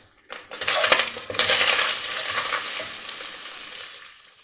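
Carrots sauté in bacon fat in a pan, a steady close sizzle that swells after an initial clatter as they hit the pan, with faint stirring and utensil clinks, no voices.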